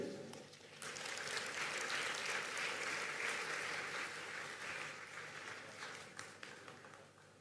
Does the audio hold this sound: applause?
yes